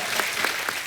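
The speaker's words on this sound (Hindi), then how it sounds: "जोरदार ताली प्रोमो के लिए।" Studio audience on an Indian comedy talk show bursts into loud applause, a dense burst of clapping filling the short moment with no talk over it.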